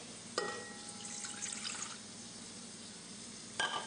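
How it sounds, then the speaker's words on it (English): A short splash as 3/4 cup of water is poured into a bowl for dinner roll dough, followed by a quiet trickle and a faint clink near the end. "Now the 3/4 cups of water, I'm going to take that and put it in my bowl."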